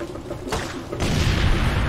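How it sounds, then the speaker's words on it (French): Mortar fire in the Far Cry 2 video game: two loud, heavy booms about half a second apart, the second rolling into sustained rumble. "Le mec qui tire au mortier est là-bas."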